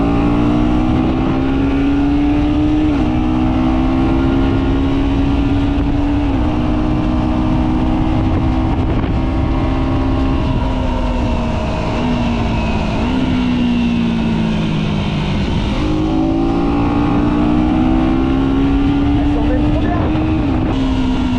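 KTM Duke 125 motorcycle engine, 2025 model, revving and accelerating through gears with rising and falling pitch sweeps, loud and close, steady throughout.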